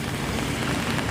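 Rainy-season downpour in Da Nang, steady rain pattering on surfaces as a soft, even hiss, moderately quiet and without voices.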